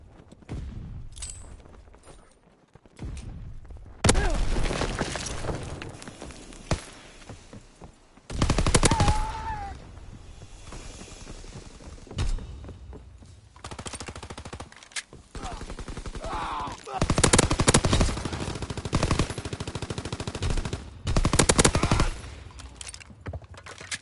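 Sniper shots and machine gun fire ring out in the Call of Duty WW2 Shadow War DLC, with loud bursts and sustained volleys spread across the stretch under a constant game-action background.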